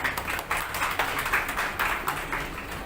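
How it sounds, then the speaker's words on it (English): Applause from an audience at a school investiture ceremony for new student council members, a steady crowd clapping that holds for several seconds, moderately loud and unbroken. "Let's applaud for our new student council members and wish them all the best"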